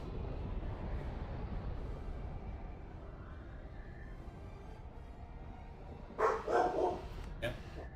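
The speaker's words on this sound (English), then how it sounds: "He's barking at someone across the street again" A dog barks at someone across the street in a short, fairly close burst of several barks near the end, after a stretch of low, steady background hum.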